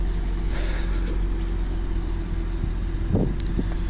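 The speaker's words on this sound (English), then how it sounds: "So yeah, this is stock exhaust. It sounds awfully good for stock." A low, steady exhaust rumble from an idling 2011 Ford Mustang GT 5.0 with stock exhaust, with slight wind noise and a faint rev swell near the end.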